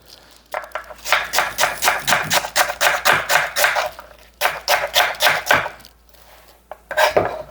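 A Spanish onion being sliced thin on a cutting board, a rapid run of crisp knife chops in quick regular bursts with short pauses between.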